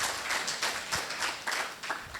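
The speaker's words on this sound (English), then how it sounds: "Can we please give a round of applause to Girls for the Future?" An audience at a Girls for the Future Foundation tenth-anniversary event gives a round of applause: quiet, rhythmic clapping from a crowd, heard from a distance without voices.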